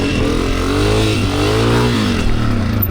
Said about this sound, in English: Alright, wheelie number 1.